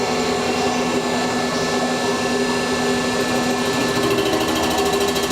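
CNC machine cutting an engine block at an engine performance expo, a loud continuous mechanical whir and grinding drone with steady tonal hum, no pauses.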